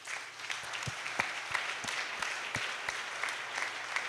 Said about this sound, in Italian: Continuiamo l'applauso.